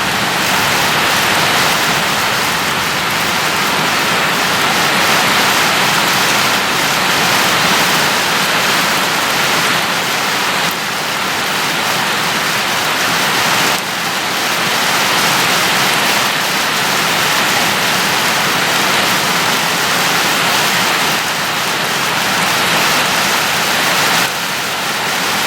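Heavy rain pours down steadily near a barn where ducklings shelter and splash in puddles, a dense, constant hiss that stays loud and unbroken throughout with no talk.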